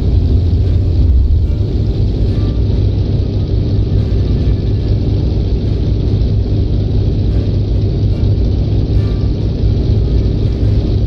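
Light aircraft engine droning steadily at takeoff in The Long Dark, a continuous loud rumble with no clear change as the landing gear retracts.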